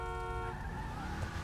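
A car horn in a driving video game sounds as a single sustained tonal honk that cuts off midway, followed by a low engine and road rumble, all quiet and compact.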